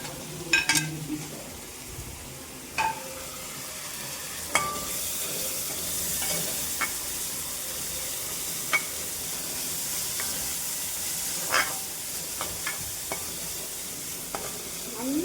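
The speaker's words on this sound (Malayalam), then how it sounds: "നന്നായിട്ട് നമുക്ക് ഇതിനെ ഒന്ന് വഴട്ടിയെടുക്കണേ" Green chili, onion and carrot sautéing in a hot pan, a steady soft sizzle with occasional sharp scrapes and clicks of a stirring spoon, fairly close and without talk.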